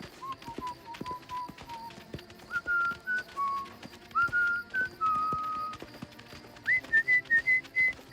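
Someone whistles a series of short, wavering notes that rise higher toward the end. Soft clip-clop-like taps and rustling movement run beneath the tune.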